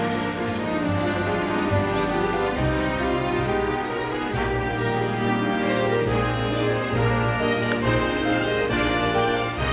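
Birds sing on a mountain ecology reserve trail, with bright chirping bursts in two short clusters heard over steady background music.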